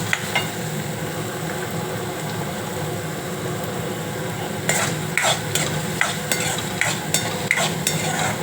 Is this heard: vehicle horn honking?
no